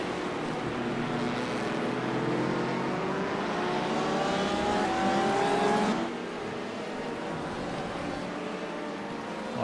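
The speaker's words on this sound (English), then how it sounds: "You got an LMP coming behind." An LMP prototype race car in a sim racing game closes in from behind on the Daytona 24-hour track, its engine note rising steadily and loudly over a constant roar before dropping away abruptly, with no talk.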